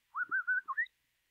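A soft human whistle imitating a bird call, made by a boy on a Silk Road caravan: a short run of four or five warbling, rising and falling notes, close and quiet, alone.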